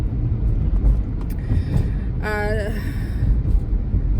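Interior road noise from a car being driven, a steady low rumble throughout with a brief tonal chirp partway through.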